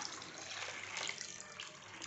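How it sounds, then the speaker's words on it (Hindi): Water is poured into a bowl of soaked sago pearls in a home kitchen, a steady broadband splashing and rushing that runs continuously and fairly close for the whole stretch, with no talking. "अब इसमें हमें पानी और डाल देना है"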